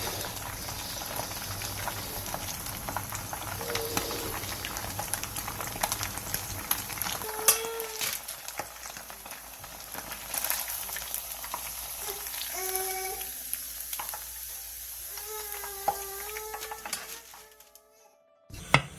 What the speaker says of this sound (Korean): 다시 기름을 센 불에서 예열한 뒤 기름을 한번 빼놓은 탕수육을 넣고